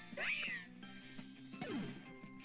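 Meowstic lets out a short synthesized cat-like cry in the Pokémon X video game, two rising and falling meows over a quiet background tone.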